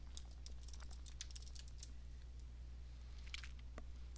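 Computer keyboard typing in a quiet office, a few soft scattered keystrokes in short bursts over a low steady hum, faint and close, with a single sharper click at the end.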